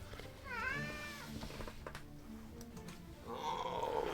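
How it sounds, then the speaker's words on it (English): A 16-year-old male cat meows close by: a clear meow near the start, then a longer, louder meow toward the end, with no talking. "I wonder if I can grab this cat."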